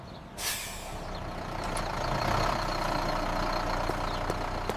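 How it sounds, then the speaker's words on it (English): A bus on the way to the beach pulls up with a sharp, loud hiss of air brakes, then its heavy engine idles steadily close by, with faint beeps in the background. "I see the bus."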